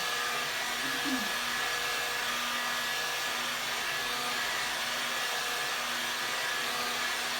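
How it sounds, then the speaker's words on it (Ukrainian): A heat gun blows hot air at around 400 to 600 degrees with a steady, loud whooshing hum that holds constant throughout, with a faint tonal whine beneath, flattening a linoleum block. "цей фен дає приблизно 400 е, чи 600 градусів"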